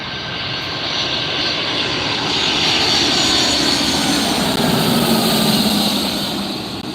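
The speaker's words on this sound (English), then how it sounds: "That's the United Airlines Boeing 757 that just arrived from Newark" A United Airlines Boeing 757 jet arriving at Los Angeles International Airport at night, a loud, steady engine roar that swells and holds across the whole stretch with no talking.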